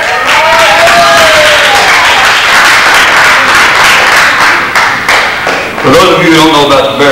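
Club audience at a live comedy set applauds loudly in a dense, steady burst with some thumping, then the clapping fades as a voice comes back in.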